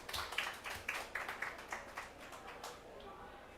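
Scattered applause from a small group at a COP28 climate session, a series of uneven claps that thin out and fade toward the end.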